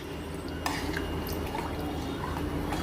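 Water is poured into a pot for bagara rice, 2.5 glasses for 1.5 glasses of rice, making a steady close splashing rush with a few drips over the top.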